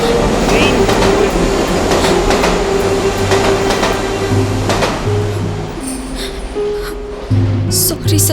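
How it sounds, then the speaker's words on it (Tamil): A train pulls out of a station with a loud, continuous rumble and rhythmic wheel clatter, steady throughout, while voices sound faintly underneath. "ட்ரெயின் வேற கிளம்பிடுச்சு அனிதா."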